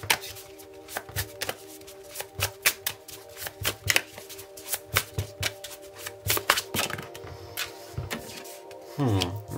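Tarot cards are shuffled and drawn by hand, producing a rapid train of crisp, close paper snaps and riffles in uneven rhythm, ending with a longer rustle.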